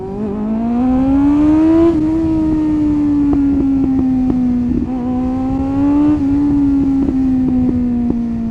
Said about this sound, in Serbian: Kako puca motor, to je auspuh